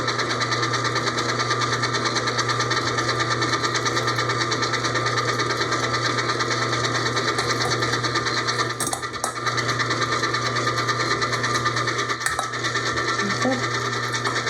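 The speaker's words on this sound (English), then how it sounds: "Let the machine give it a few turns to really get it mixed in." A stand mixer churns raspberry cake batter, a steady motorized hum with a rhythmic mechanical whir and occasional clunks of the beater in the bowl.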